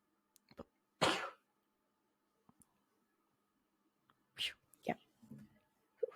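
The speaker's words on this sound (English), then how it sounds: "I have to sneeze" A sharp, breathy sneeze bursts out once, followed by quiet gaps and a few soft throat and breath noises nearby.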